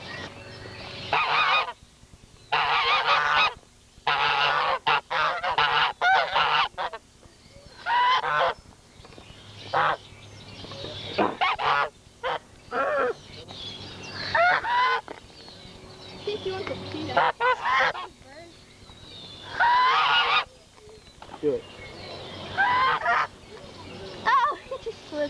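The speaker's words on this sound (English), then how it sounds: "Stupid geese." Geese honk loudly at a Gatorland attraction in bursts of harsh repeated calls, several birds close by, with people talking and reacting between the honks.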